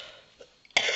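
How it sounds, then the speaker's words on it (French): One brief cough, close and abrupt, gives way to a loud burst of broadband noise, with a small earlier throat sound. "Alors je tousse"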